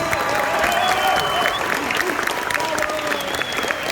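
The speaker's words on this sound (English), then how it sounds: "I want a very loud round of applause for our special guest." Loud, steady applause from a large audience at a high school Latino cultural festival, crowd clapping densely and continuously throughout with some cheering mixed in.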